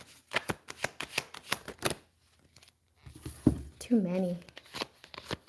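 Crisp rapid flicks of cards being shuffled and pulled from a deck, a quick run of sharp snaps followed by a pause, then a voice speaking briefly with a few more card sounds.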